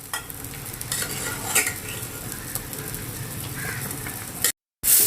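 A spoon keeps scraping and stirring as crushed masala is mixed into a simmering drumstick curry over a soft sizzle, and the sound briefly cuts out near the end.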